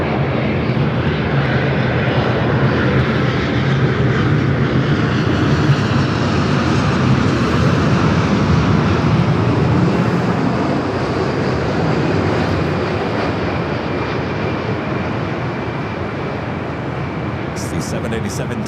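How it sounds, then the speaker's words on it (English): Boeing 787-10 Dreamliner arriving from Tokyo Haneda at Los Angeles airport, a continuous loud jet rumble and whine that slowly softens toward the end, with a voice talking over it. "It's the 787-10 Dreamliner coming up from Tokyo, Haneda."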